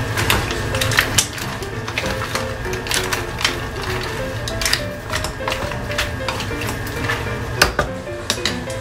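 Mushrooms cooking in a garlic seafood butter sauce in a pan, with steady sizzling and repeated clinks and scrapes of a utensil against the pan, close by and without talk.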